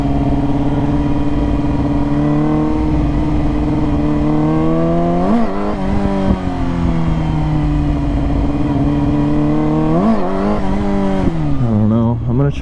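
Motorcycle engine revving in first gear with a slipping clutch, a loud sustained drone that rises and dips in pitch several times as the throttle opens and closes, heard close up throughout, with a rider's voice mixed in at times.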